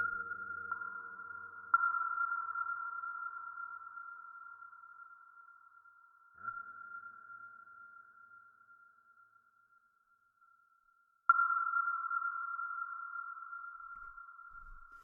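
Sonar-style ping built from a filter, high Q and reverb effect combination, a few sharp synthetic tones each fading through a long reverberant tail, heard alone with no voices.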